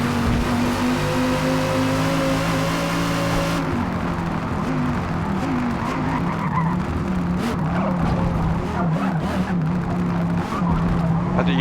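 A car in the racing game Forza Motorsport slides under handbrake, its tires squealing in a long skid while the engine drones and revs loudly and continuously.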